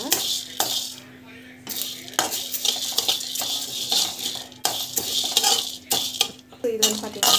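Curry leaves roast and are stirred in a pan for tamarind rice, giving repeated close scraping and clattering of a utensil against metal with faint sizzling in between.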